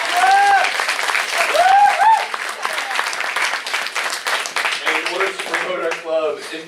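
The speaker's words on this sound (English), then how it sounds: "If everyone would like to give our comedians another round of applause." An audience applauds comedians at a live comedy show, steady loud clapping and cheering over several seconds, with voices calling out and talking above it near the end.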